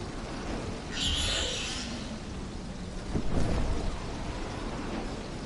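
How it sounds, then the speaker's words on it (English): Lightning strike and rolling thunder from a storm in the video game Fortnite, a bright crack near the one-second mark followed by a louder rumble around three seconds, over steady rain-like noise with no talking. "It shot lightning at me."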